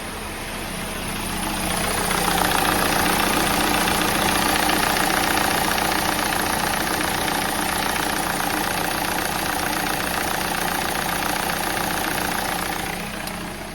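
A 2014 VW Passat with a 1.8L turbo engine idles with a steady, rough mechanical knock, the noise growing louder as it is approached and holding level, with no talking.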